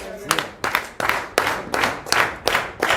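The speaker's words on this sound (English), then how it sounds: "I get y'all to clap to this" Audience members at a poetry slam clap along in unison, eight sharp, evenly spaced claps in a steady rhythm, fairly close and loud.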